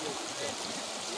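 Fast-flowing water of the Sutlej River, a broad rushing, gurgling hiss heard close and steady throughout the brief moment.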